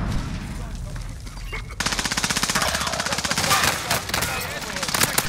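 Rapid bursts of automatic gunfire from a battle royale video game match, dense and loud through most of the stretch after a quieter start, with a player talking over the shooting.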